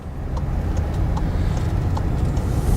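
A 2019 Volkswagen Jetta S with a 1.4 liter engine gets a light touch of throttle, its close, steady engine drone swelling slightly under a low road-like rumble.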